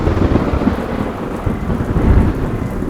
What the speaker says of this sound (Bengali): সেদিনও রাতে খুব বৃষ্টি হচ্ছিল